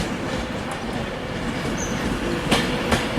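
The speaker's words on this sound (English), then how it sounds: "Here comes a terminating Avanti West Coast service." Avanti West Coast train, a terminating service, pulling into a Manchester station, with a steady rumble of wheels on rails, a faint squeal and a couple of clacks over joints, close and loud.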